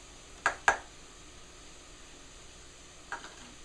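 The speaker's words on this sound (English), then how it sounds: "I'm going to stir this around until it gets the cumin and the curry get nice and toasted" Cumin and curry spices are toasted in a pot over a faint, quiet sizzle, broken by three short spoon clicks and scrapes as they are stirred.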